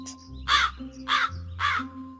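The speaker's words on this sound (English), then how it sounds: "Yes, the crow is cawing." A crow caws three times in a steady rhythm, harsh and raspy, with a quiet hum underneath.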